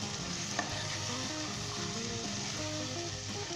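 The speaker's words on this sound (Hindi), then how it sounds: "मैंने अच्छे तरीके के साथ गोश्त को अदरक में, लहसुन में और प्याज में भून लिया।" Mutton frying in a pan with onion, ginger and garlic for a Kashmiri aloo gosht curry, a steady close sizzle with faint stirring scrapes, no talk.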